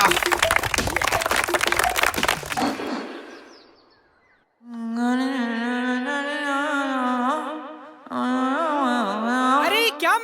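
An audience at a school event gives a short burst of loud clapping for a participant, which fades out before a voice starts singing or talking in a drawn-out, melodic way.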